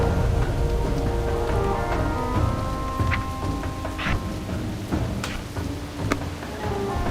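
Steady rain pours over a video game landscape in World of Warcraft, with low rumbling thunder rolling beneath it and occasional sharper cracks and drips standing out from the constant wash of the storm.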